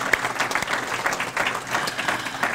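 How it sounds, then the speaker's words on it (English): Audience members applaud the staff at an event introducing G.W. Bailey, a lively burst of many hands clapping with irregular peaks, close and continuous through the whole stretch. "I'd like a round of applause for the great staff"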